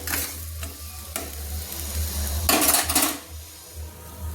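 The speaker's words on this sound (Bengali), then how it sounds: "এদিকে পেঁয়াজগুলো দেখুন আমি লাল লাল করে ভেজে নিচ্ছি।" Onions frying golden in leftover eggplant-frying oil in a pan, a steady close sizzle with clinks and scrapes of a utensil stirring against the metal pan, no talking.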